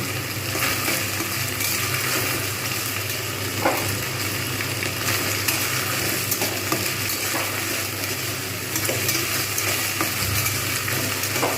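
Okra fries in a pan for mustard-yogurt okra, a dense, constant sizzle close up with occasional soft stirring knocks.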